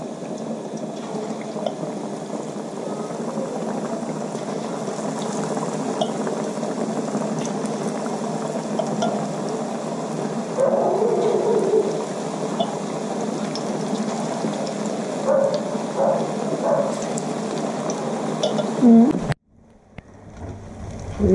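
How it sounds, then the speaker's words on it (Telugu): Potato bajji frying in hot oil, a steady dense bubbling sizzle that runs continuously and close up, then drops out abruptly near the end. "పట్టించి నూనె వేడైంది ఇట్లా వేసేసేయాలి"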